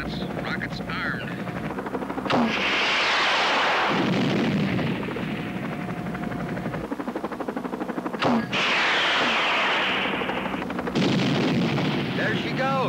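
Military helicopters make rocket runs at 90 knots against a snow cornice on a mountain, with two loud, rushing bursts of fire and blast noise rising over a constant rotor roar.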